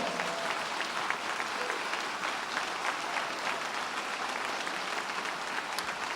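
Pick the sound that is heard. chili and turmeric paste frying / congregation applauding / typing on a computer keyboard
congregation applauding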